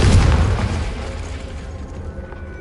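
A Confringo blasting curse from Hogwarts Legacy bursts into a loud, deep, rumbling explosion that decays gradually over about two seconds, with no speech.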